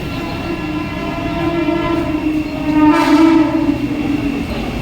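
A Mumbai slow local train sits at a station platform, its steady low rumble and engine hum building and surging toward the middle, heard alone with no talk.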